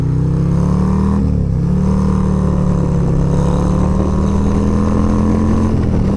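Steady loud engine drone from a 2023 Harley-Davidson Road Glide ST with the 131 kit under acceleration, a low continuous roar with a brief dip around a gear change, heard close with no talk.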